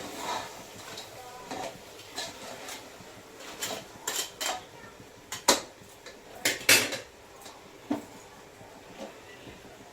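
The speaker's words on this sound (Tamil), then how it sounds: "நல்லா கிளறி விட்டுக்கோங்க" Crab gravy being stirred in a pot with a metal spoon, giving repeated scraping and clinking strikes against the pot that cluster and grow louder midway, over a faint background hum.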